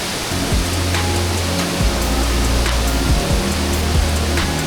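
Waterfall spray in Bali makes a dense, steady hiss of rushing water close to the microphone, loud and unbroken throughout with a low rumble beneath.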